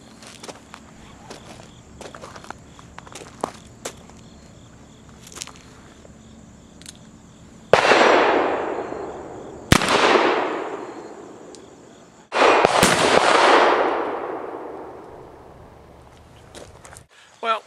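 A Ruger Old Army black powder revolver with a 5.5 inch barrel fires round balls loaded with 777 powder: three loud, sharp outdoor shots, each with a long ringing decay, after quiet handling clicks and movement.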